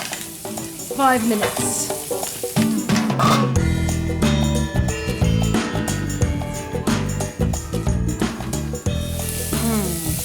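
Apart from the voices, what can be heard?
food frying in aromatic oil in a lidded pan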